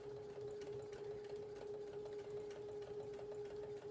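A sewing machine back stitches while sewing an embroidered accessory case, giving a steady close mechanical hum with a strong whine and a faint even clatter of needle strokes throughout, with no voices.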